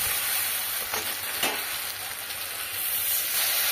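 Parshe fish pieces with salt and turmeric sizzle steadily in hot oil while being stirred, with a constant close frying hiss and a few soft scraping strokes.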